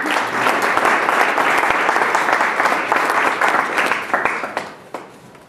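An audience gives loud, sustained applause to welcome a guest speaker, with individual claps standing out near the end as the clapping thins and fades away.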